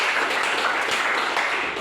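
An audience in a classroom lesson on automotive engine sensors bursts into steady, dense applause, many hands clapping loudly and continuously for nearly two seconds.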